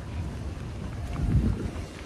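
Gusty wind buffeting the microphone outdoors in Milan near the Torre Branca, a low rumbling roar that swells louder in the middle and then eases, with no voices.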